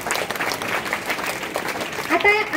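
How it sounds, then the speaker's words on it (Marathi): A crowd applauds a rap performance by children, the clapping dense and steady throughout and swelling slightly near the end, with voices mixed in. "जोरदार टाळ्या या रॅपसाठी"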